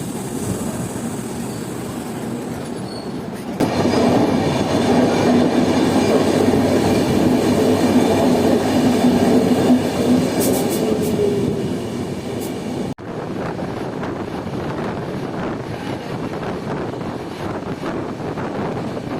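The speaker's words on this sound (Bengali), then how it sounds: "আমাদের ট্রেন তার নির্ধারিত সময় রাত 2:20 ছেড়ে দিলাম মালদা টাউন রেলওয়ে স্টেশনের 4 নম্বর প্ল্যাটফর্ম থেকে" A Uttarbanga Express 13147 general coach runs through the night just after leaving Malda Town station, giving a continuous rumble with rhythmic wheel clatter. It surges louder for most of the middle stretch, then settles back to a steadier, quieter run.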